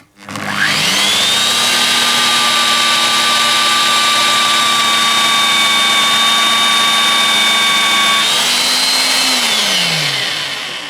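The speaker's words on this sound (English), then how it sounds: "the drill has no problems sticking to the 3mm plate and cutting it" A Rotabroach magnetic drill bores through 3mm steel plate, a loud steady motor whine with a sustained high cutting tone that runs for most of the duration, then shifts pitch and winds down near the end.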